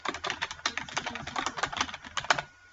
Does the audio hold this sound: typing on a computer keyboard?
yes